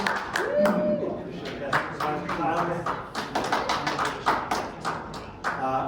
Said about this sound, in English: thank you for that raucous applause